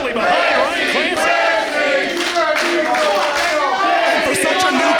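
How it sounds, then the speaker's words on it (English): A wrestling crowd at a Limitless Wrestling show cheers and chants loudly and steadily for newcomer Ryan Clancy, a dense, continuous roar of many voices throughout. "And the crowd handily behind Ryan Clancy."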